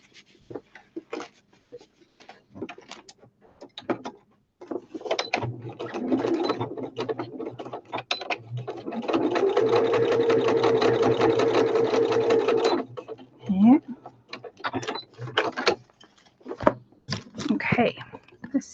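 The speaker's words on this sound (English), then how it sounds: "sew the bottom bit." A sewing machine stitches across the bottom of a handmade journal in one steady, fairly loud run of about three seconds, framed by quieter handling clicks and rustles before and after.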